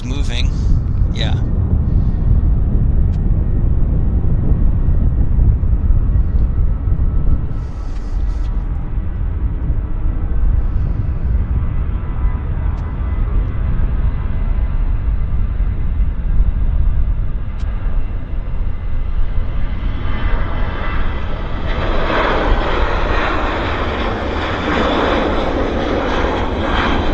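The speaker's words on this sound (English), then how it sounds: "Now the Westjet, I think, is moving." A WestJet airliner taxis at Vancouver Airport, its jet engines producing a loud, steady rumbling roar that swells with a brighter whine toward the end.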